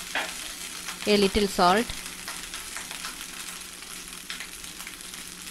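Pepper rice with roasted cashews is stirred in a hot pan, a soft steady scraping and sizzling throughout, while someone speaks briefly near the start.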